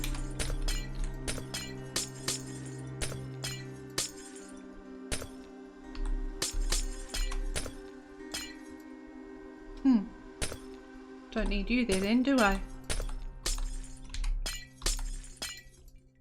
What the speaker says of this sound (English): glass smashing going on.